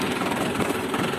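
A tractor engine fitted with a turbo runs steadily at close range, a dense, continuous rumble with a hissing upper layer and no speech over it.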